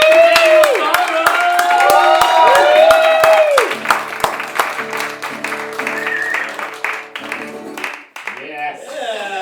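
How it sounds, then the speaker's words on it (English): A live late-show audience applauds a comedian with loud, dense clapping and whooping cheers. The clapping thins after a few seconds as voices carry on over it. "Guys, get some applause going"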